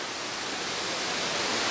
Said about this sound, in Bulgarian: Много красиви водопади.